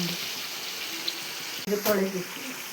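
Running tap water pours steadily into a sink while something is rinsed under it, with a brief knock and a splashy surge near the end and a voice speaking over it.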